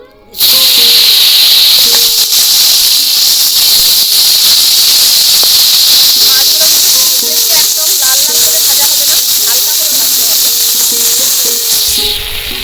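Loud, steady sizzling and hissing of fish frying in hot mustard oil, with faint crackles and pops continuing throughout.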